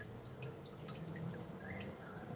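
Water dripping onto an opal cutting saw, scattered irregular drips and splashes over a low steady hum from the machine, faint and close.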